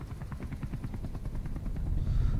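A helicopter in the Metal Gear Solid V video game chops steadily at moderate loudness, a rhythmic rotor thump that carries on alone without talk before a low rumble swells at the end.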